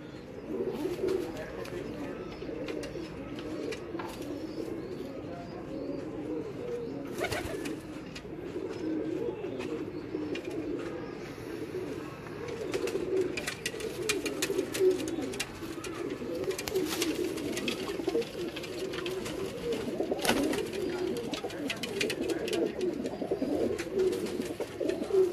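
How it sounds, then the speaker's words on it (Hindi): A Teddy pigeon coos steadily in a rolling, repeated rhythm at close range, with other birds chirping around it and faint voices in the background. "ये इनका मेन कमांडो टैडी कबूतर है"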